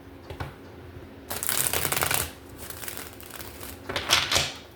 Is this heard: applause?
no